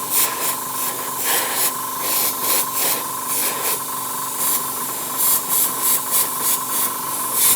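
An aerosol can sprays black paint through a landing pad stencil onto model terrain, a steady close hiss broken by short pauses between passes.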